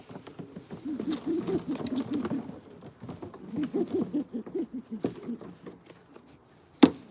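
Soft repeated low cooing from domestic pigeons in a loft, murmuring in bursts with pauses between, close by, ending with a sharp knock.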